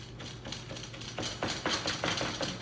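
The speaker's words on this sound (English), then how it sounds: "Now before we move into something else, let's chop the ginger." A knife chops fresh ginger on a cutting board in a run of quick, sharp taps that speed up and grow louder partway through, over a steady low background hum.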